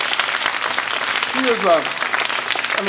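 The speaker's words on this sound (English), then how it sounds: "She is, give her a round of applause." Audience applause at an AFSCME award event honoring Lee Saunders, greeting the National Education Association president, a steady wash of clapping with a voice speaking briefly over it.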